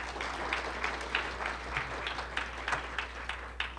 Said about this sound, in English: you can give another round of applause